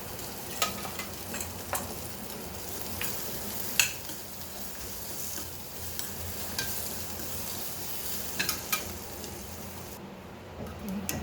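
Masala for Hyderabadi masala eggplant sautéed in oil, a soft steady sizzle broken by scattered sharp clicks and scrapes of a spatula stirring, close and fairly quiet with no voices.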